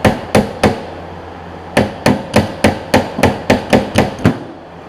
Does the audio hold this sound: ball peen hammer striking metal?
yes